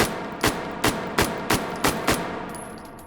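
Six sharp simulated rifle shots from an H3VR virtual firearm fire at a steady, roughly evenly spaced rhythm, each a loud crack with a brief tail and no voices.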